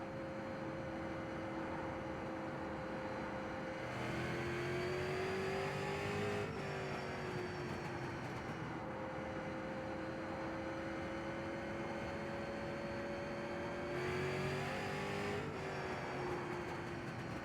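A race car on an oval track in the sim racing game iRacing: a steady, droning engine note holds and shifts pitch as the car goes round, swelling louder in stretches, with no talking over it.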